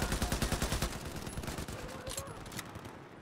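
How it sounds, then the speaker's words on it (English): Rapid machine gun bursts of suppressive fire in Battlefield 4 rattle close and loud, with evenly spaced shots at first, then fading into a rolling, echoing wash of distant gunfire. "Laying down some suppressive fire right there."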